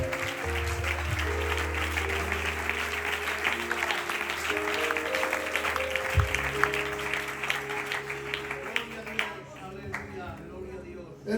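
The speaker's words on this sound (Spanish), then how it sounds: "¿Cuántos lo creen y dan un fuerte aplauso al Señor?" Church congregation applauding in a dense patter of clapping, heard over sustained organ or keyboard chords and a voice speaking, with the clapping thinning out toward the end.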